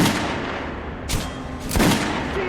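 Guns fire at a shooting range in the Metro video game: two sharp, loud gunshots about half a second apart with ringing tails, over a steady low ambient hum.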